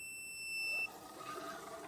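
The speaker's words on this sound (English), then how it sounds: "the buzzer is indeed making a noise" An Arduino ultrasonic distance sensor circuit's buzzer gives one steady, high-pitched electronic beep that lasts under a second and then cuts off. It is faint and heard alone.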